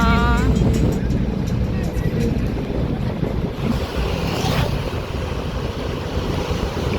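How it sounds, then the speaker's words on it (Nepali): The Kali Gandaki river in Myagdi rushes with a loud, steady broadband roar of flowing water, mixed with wind buffeting the microphone, while a voice speaks briefly at the start. "काली गण्डकी खोला"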